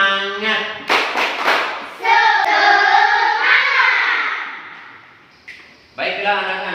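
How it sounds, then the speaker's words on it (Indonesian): Children in a classroom doing a rhythmic spirit clap, sharp clusters of claps alternating with chanted, sung voices in a quick pattern, close and loud. "Tepuk semangat."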